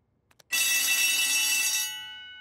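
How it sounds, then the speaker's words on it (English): A school fire alarm in a cartoon rings as a loud, continuous metallic bell that starts abruptly after a couple of soft knocks, holds steady, then drops to a quieter lingering ring. "So we've heard the alarm."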